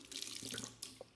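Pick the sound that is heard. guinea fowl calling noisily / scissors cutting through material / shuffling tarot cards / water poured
water poured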